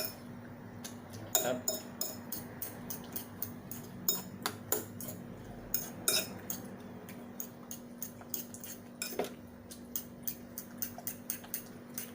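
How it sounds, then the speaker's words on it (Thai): A metal spoon stirring food in a pan, giving a quick run of light clinks and ticks against the metal, irregular but steady, close up over a faint constant hum, with no voices. "แล้วก็ใช้ช้อนนะครับใช้ช้อน คนครับคน"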